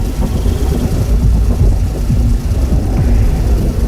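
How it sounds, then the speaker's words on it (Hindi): A car engine drones steadily while driving, a constant mid-low rumble with light mechanical fluttering and no voices. "बुल्ली गाड़ी चलाते हुए रोड के दोनों तरफ बड़े ध्यान से देखता रहता है"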